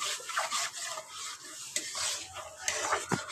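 Spices and black cumin being stirred in a hot kadai for a vegetarian bottle gourd and potato curry, with a spoon scraping and clinking against the metal in short, close strokes over a faint sizzle.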